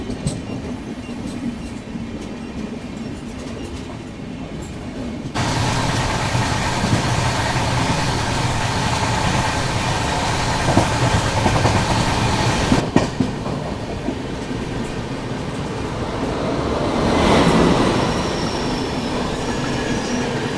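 The 12932 Ahmedabad-Mumbai Central double-decker express runs via Vadodara with a steady loud rumble, rhythmic clickety-clack of wheels and occasional squeals, continuing unbroken for about twenty seconds with no talking.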